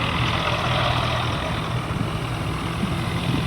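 A loaded tractor stopped outside a village, its engine idling with a steady low throbbing rumble, close and constant throughout.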